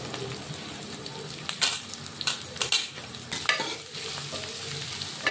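Onions, green chillies, curry leaves and coriander fry in a pan with a steady sizzle, broken by several sharp clinks and scrapes of a utensil stirring against the pan.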